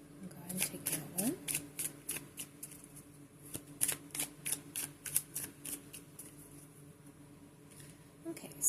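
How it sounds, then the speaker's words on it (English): Tarot cards are shuffled in a quick run of crisp riffling snaps, steady and close, with faint background noise and brief soft movement. "give this one a quick shuffle"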